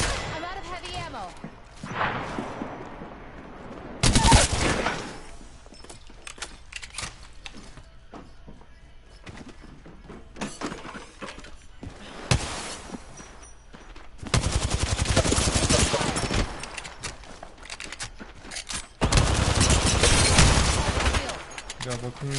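Bursts of gunfire in the battle royale shooter Apex Legends, with three loud dense volleys standing out between quieter stretches of game sound and a voice talking over it.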